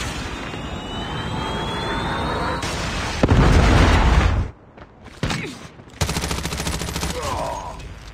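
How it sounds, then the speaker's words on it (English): A Predator missile strike in Call of Duty Mobile erupts into a loud, sustained barrage of blasts and crackling booms, cuts out abruptly, then returns in sharp bursts with lighter gunfire close by. "Predator missile inbound."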